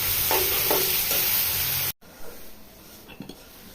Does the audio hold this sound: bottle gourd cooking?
yes